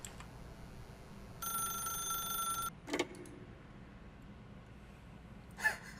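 A telephone ringing in the video game The Stanley Parable, one short electronic ring burst followed by a couple of faint clicks in a quiet room.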